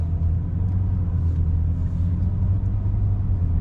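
Cabin drone of a BMW E90 335i with a 6HP21 six-speed automatic cruising in Drive on light throttle, a steady low engine hum and road rumble with no talking.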